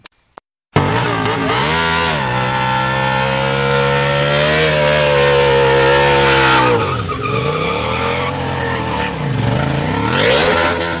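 A motorbike engine revs hard during a burnout, starting abruptly after a couple of clicks and holding a loud, close roar with rising and falling pitch sweeps and tire squeal, no talk.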